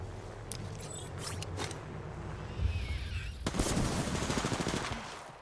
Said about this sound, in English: Look how the way she's shooting him right now.